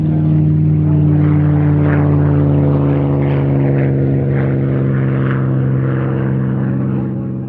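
Supermarine Spitfire Mark 5B propeller fighter flying at an air show at Nellis, a loud, close, sustained droning engine roar with steady harmonic hum that slowly fades at the end.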